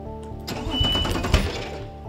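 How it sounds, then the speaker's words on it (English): A four-stroke outboard motor is cranked over by hand without starting, giving a brief mechanical whirring and ratcheting burst of roughly two seconds, close and fairly loud. "I'm going to turn over that cylinder without starting the engine."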